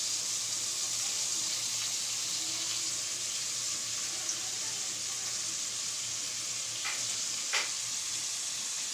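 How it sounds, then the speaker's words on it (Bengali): Hand-broken potato pieces go into a hot wok, giving a steady, even sizzle of frying oil throughout, with a couple of faint splashy bursts near the end; no one speaks. "শুধু ভাঙবো আর এইভাবে ছেড়ে দেবো কড়াইতে ভাঙা ভাঙা অবস্থাতে।"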